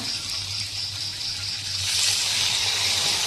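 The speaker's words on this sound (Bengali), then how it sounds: "আমি সামান্য একটু জল দিয়ে দেব" Water poured steadily into a pan of fish curry with eggplant and potato, a close, continuous gushing splash that swells slightly louder toward the end, with no talking.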